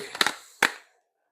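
Calculator keys pressed near and clear, a quick cluster of three plastic taps and then one more sharp press after a short pause, in a workshop.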